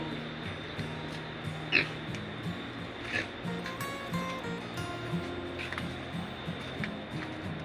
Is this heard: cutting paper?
no